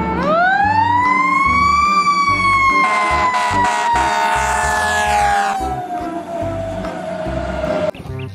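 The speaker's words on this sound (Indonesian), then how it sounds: "Yang ini mobil pemadam kebakaran." A toy fire truck siren wails loudly up and down in a steady electronic tone, close by, with rattling plastic noise underneath and no talking.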